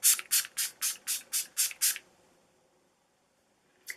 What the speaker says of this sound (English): let me just spray some on